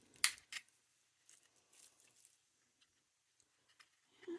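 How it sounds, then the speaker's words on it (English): Small scissors trimming a snowman tart tin ornament: a few sharp, quiet snips close by, two distinct cuts early on followed by faint scattered clicks and rustles in near silence. "I'm going to take a pair of my little scissors so I can get in there a little bit better"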